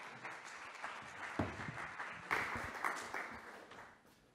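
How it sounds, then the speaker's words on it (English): Audience applause welcoming an assistant professor and postdoctoral researcher to the stage at a sport performance talk, a moderate, steady wash of clapping with a few louder bursts, fading toward the end. "Please, under your applause."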